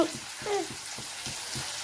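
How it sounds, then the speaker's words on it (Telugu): Onions, cumin, ajwain, curry leaves and green chillies crackle and sizzle in two spoons of hot oil while a spoon stirs the pan in regular scraping strokes, close and fairly quiet. "ఉల్లిపాయలు, జీలకర్ర, ఓపులు, కరివేపాకు, పచ్చిమిర్చి వేసి పోపు పెట్టేశాను"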